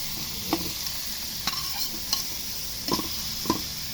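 Onions fry in cooking oil for chicken curry, a quiet, even sizzle with a handful of sharp clicks and spatula taps spaced across it.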